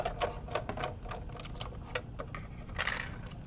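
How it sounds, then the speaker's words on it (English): A die cutting machine feeds a card through its rollers in a papercraft setup, giving a steady run of close, dry mechanical clicks and rattles, moderately loud with no voices. "I'm going to run it through a couple times just to make sure I've got it good and cut."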